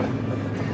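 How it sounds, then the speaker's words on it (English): Steady low rumble of a truck riding along a backcountry dirt road in the Wyoming mountains, heard from inside the cab as a continuous, loud drone with rattles and wind, no talking. "now you can see what it's like to ride in the truck"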